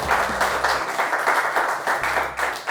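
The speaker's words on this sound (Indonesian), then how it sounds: "kita beri tepuk tangan untuk Cahyana" A small group claps for a girl named Cahyana after her talk, giving an even, moderately loud patter of applause over a low steady hum.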